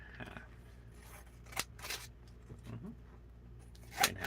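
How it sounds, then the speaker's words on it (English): Scissors cut a paper fish shape in half, producing a few quiet, separate snips and rustles close up with soft background noise. "I take it and I cut the fish in half"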